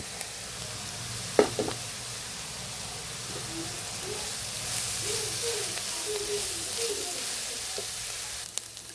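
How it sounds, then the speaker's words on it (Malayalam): Onions and carrots sizzle steadily in a pan as grated coconut goes in, a constant close frying hiss with a few clinks and stirring scrapes, no talk. "നമ്മുടെ സവാള ഉള്ളിയും ക്യാരറ്റൊക്കെ ഒന്ന് വഴണ്ടിട്ടുണ്ട്. തേങ്ങാപ്പീര ഇടുവാണ്."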